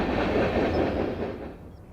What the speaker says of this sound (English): A northbound freight traverses the former Illinois Central's Edgewood Cutoff in April 2011.